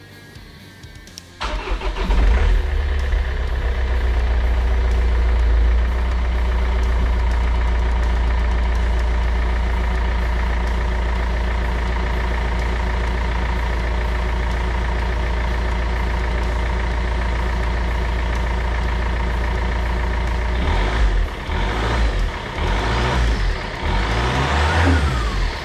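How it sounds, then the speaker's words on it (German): A Peugeot 407 engine, just refitted with a cleaned EGR valve, cranks and catches after a short pause, then settles into a loud, steady, close-up idle with a few throttle blips near the end. "Starten wir mal den Motor."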